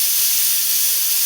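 A pressure cooker whistle releasing steam: a loud, close, continuous hiss with no break.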